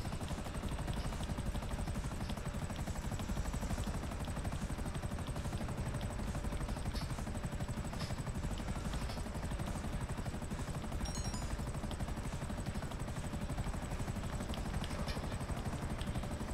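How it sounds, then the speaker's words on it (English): Helicopters in the video game Grand Theft Auto V, a continuous rotor and engine roar that stays loud and constant throughout, with faint sharp bursts that may be gunfire. "we'll get helicopters in there"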